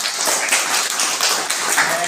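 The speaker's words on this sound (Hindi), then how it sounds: "चलो एक बार ताली बजाते हैं।" Schoolchildren applaud together in a classroom at a government senior secondary school, producing a steady, dense patter of many small hands that holds at an even level from start to finish.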